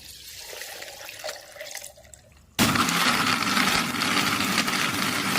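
A mixer grinder blends grapes with sugar, ice cubes and water for juice, switching on abruptly into a loud, steady whirring roar that runs to the end after a quieter start.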